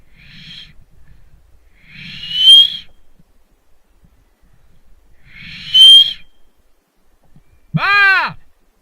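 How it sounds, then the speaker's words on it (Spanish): During an outdoor airsoft game, a person whistles short signal calls: three sharp, loud whistle bursts spaced a few seconds apart with faint rustling between, ending in a rising-falling swooping whistle. "Le silbo."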